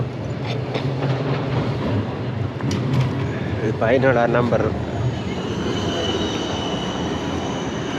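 A tram passes along a street in Amsterdam's red light district, rumbling with a brief metallic wheel squeal. Someone talks over it throughout, amid ambient city noise.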